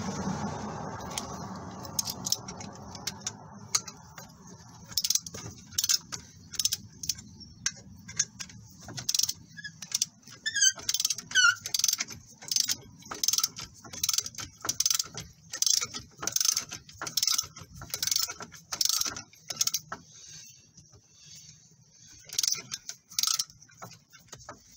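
Wheel nuts are quickly nipped up with a ratchet, giving sharp, close clicking bursts in irregular runs, with a faint low rumble early on.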